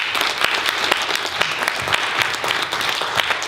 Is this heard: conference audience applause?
yes